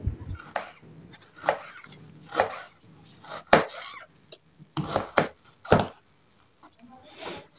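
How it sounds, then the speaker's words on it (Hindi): A knife chops onions for pakora on a board, giving a series of separate, fairly sharp cuts at an uneven pace with brief pauses between strokes. "इसको हम इस डिजाइन में काट देंगे।"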